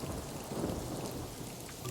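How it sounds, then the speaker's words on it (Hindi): Heavy rainstorm with rumbling thunder: a steady wash of rain blends with a low, rolling rumble throughout, no crisp crack standing out. "बादल में एक जोर की बिजली कड़की"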